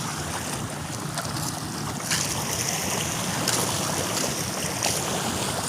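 Boat by the pier in Matalom, Leyte, with steady wind and water washing against the shore, a broad continuous wash that stays fairly loud throughout with no talk.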